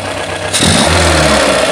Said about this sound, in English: Now my idle is just a little bit low.